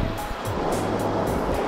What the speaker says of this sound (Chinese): 在我身后的呢就是蓬蓬溪，也可以称为叫做泛泛溪